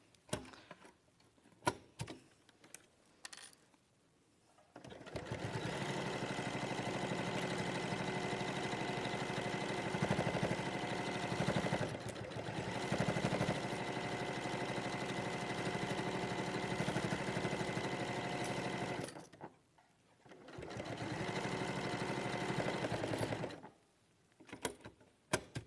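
Sewing machine stitching all the way around a quilt's binding, a continuous mechanical whirr in long runs broken by short pauses and stops, fairly quiet and close.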